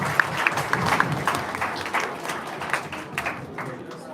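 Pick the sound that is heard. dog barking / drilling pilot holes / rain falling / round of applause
round of applause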